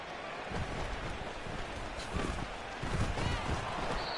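Steady rain falls in the second half of a Madden 24 video game football match, a constant loud wash of hiss with low thumps and crowd-like noise underneath.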